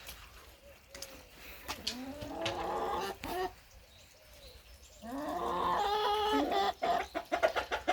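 Chickens clucking as they peck at and eat grass, a run of repeated clucks and short calls from close by, loudest and busiest toward the end, with no talking.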